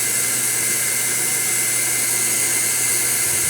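Steady loud whine of a blower drying a freshly bathed dog, a constant airy roar running without break from start to finish.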